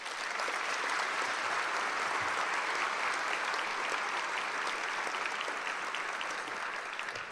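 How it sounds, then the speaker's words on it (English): Steady, sustained applause from a large audience at a 2018 Teacher of the Year awards event, honoring the sponsors; dense, even clapping fills the whole stretch with no voices rising above it. "Please join me in giving them a round of applause."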